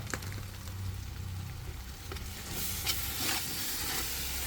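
Garam masala sizzling and frying in a pan while being stirred for Mangattumoola biryani, a steady close hiss with soft scraping strokes throughout, getting brighter in the second half.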